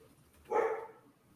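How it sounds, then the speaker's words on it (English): A single short dog bark, moderately loud and fairly close, against a quiet background. "Stop barking at me."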